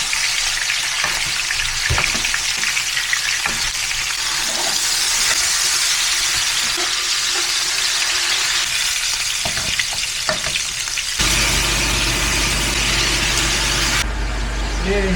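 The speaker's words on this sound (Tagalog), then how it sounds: "Cook the pork chop." A pork chop fries in butter in a pan, giving a loud, steady sizzle and crackle with occasional stirring and scraping, continuous throughout.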